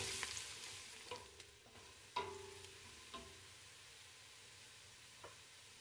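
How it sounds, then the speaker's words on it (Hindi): Roughly chopped garlic and ginger frying in a pan for a vegetable pilau, giving a steady low sizzle with a few soft stirring clicks and scrapes, quiet and close, no voices. "लहसुन अदरक को रफली चॉप कर लिया है और अब इन्हें गोल्डन होने तक फ्राई करेंगे।"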